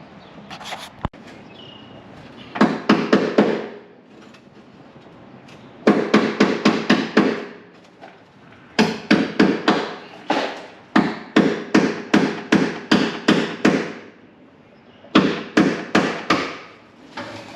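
A hammer knocks out a drilled-out seam on the quarter panel of a Camaro SS donor car, sharp metallic blows in quick bursts of four to eight with pauses between them, close and loud, with no talking.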